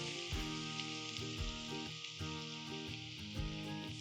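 Sliced onions frying in oil with bay leaf, cinnamon, cloves and cardamom, a steady soft sizzle running beneath louder background music.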